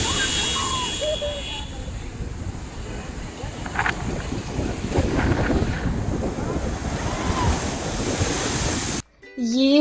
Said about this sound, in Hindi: ये आप पानी की आवाज़ सुनो